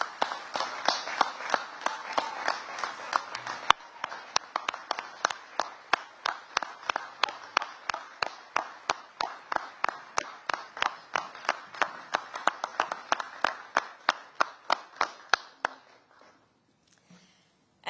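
An audience at a Veterans Day ceremony gives steady applause that sounds like evenly spaced rhythmic claps, fairly close and loud, lasting about fifteen seconds before fading into quiet.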